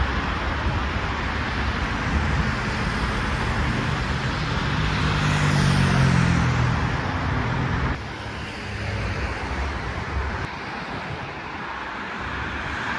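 Road traffic passes continuously beside a rooftop overlooking a scenic view, cars and heavier vehicles making a steady roar that swells as one passes close, with no talk.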